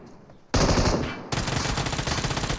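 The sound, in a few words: gunfire in the video game PUBG Mobile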